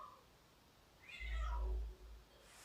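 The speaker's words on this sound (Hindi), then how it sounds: "और जितनी जोर से बिल्ली बोलती है ना उतनी छोटी जैसी होती है ना" A cat meows loudly outdoors on a sunny day, one drawn-out call rising and falling, fairly close and alone, with faint background hiss.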